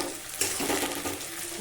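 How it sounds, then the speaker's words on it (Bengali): Tomato frying in a pan for Bengali chicken kosha, a brief close sizzle with a stir onset partway through. "তো টমেটোটা একটু ভেজে নিবে"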